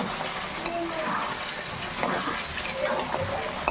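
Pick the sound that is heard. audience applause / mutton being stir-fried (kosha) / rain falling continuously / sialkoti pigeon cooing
mutton being stir-fried (kosha)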